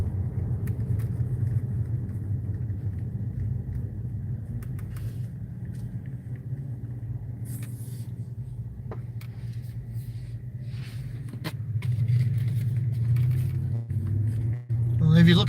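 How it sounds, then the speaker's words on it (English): Saturday night traffic on the Las Vegas Strip, a steady low rumble of passing cars that swells louder near the end, with a speaking voice over it. "If you look at the traffic, there's quite a bit of traffic"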